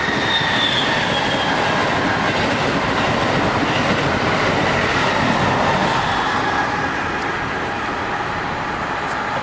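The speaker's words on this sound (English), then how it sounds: "A passenger train." A passenger train rolls past close by in a continuous loud roar of wheels on rails, with rhythmic clatter and a thin high squeal of wheels running throughout.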